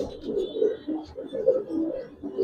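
Giribaz silver pankhi pigeons in a pigeon house coo repeatedly in soft, throaty rolling phrases, close by and steady, with no talking.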